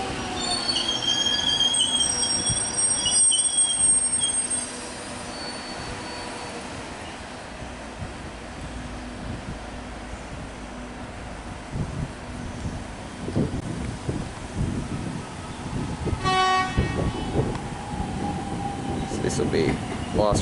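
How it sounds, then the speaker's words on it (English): A Melbourne suburban train pulls into East Richmond station, with rumbling wheels, wind buffeting the microphone, and high-pitched wheel squeal rising near the end, loud and close. "as my train is also arriving."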